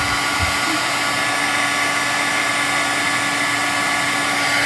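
A heat tool melting embossing ink on a handmade card blows a loud, steady whirring rush of hot air close by, constant for the whole stretch with no voices.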